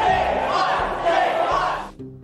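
A large crowd of demonstrators shouts and roars together in a loud, dense wall of voices, then cuts off abruptly near the end.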